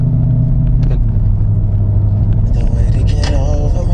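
A song playing through the audio system of a Ford Mustang with a rear subwoofer, heavy steady bass thumping loud and close inside the car, with faint voices over it.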